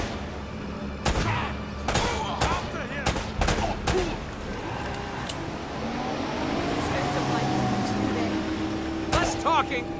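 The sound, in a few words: gunfire in the video game Uncharted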